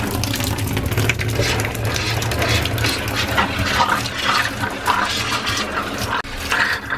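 Water gushes steadily from the cold line of a shower in a Forest River Geo Pro RV being winterized, a loud, close, continuous rushing flow with a brief dip near the end.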